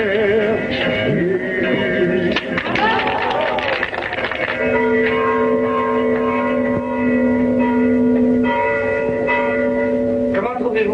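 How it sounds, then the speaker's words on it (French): A church carillon rings loud and close, its bells overlapping in sustained, ringing tones with repeated strikes, and faint voices occasionally beneath. "Comment trouvez-vous mon carillon"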